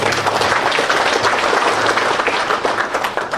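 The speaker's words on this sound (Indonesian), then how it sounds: "sekali lagi tepuk tangan." An audience at an event about the making of a song applauds. The crowd clapping is steady, dense and fairly loud, with no pauses.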